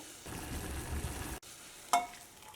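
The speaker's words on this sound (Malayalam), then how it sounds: "ഈ അരിയിലേക്ക് ഞാനിവിടെ നല്ല തിളച്ച വെള്ളമാണ് ഒഴിക്കുന്നത്." Boiling water gushes onto rice in a short steady pour for about a second, then stops, followed by a light clink and quiet.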